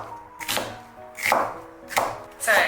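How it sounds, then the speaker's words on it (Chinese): Knife chopping a soaked onion into thin strips on a cutting board, three distinct bursts of quick cuts spaced about a second apart, close and clear with no talking. "这时候我们的洋葱也泡好了，然后给它取出来，切成细丝"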